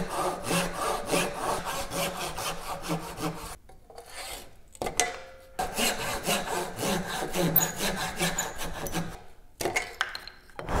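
Hand saw cutting the cheeks of a through tenon in wood, a steady run of rhythmic rasping back-and-forth strokes, close and fairly loud, with two short pauses before the sawing resumes.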